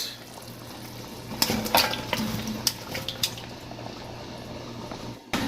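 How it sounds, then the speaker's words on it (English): Yam added to a pot of simmering porridge: soft clatters and a few sharp utensil knocks against the pot over a quiet bubbling background, no talking. "Here is my yam. I'm going to add it to the pot."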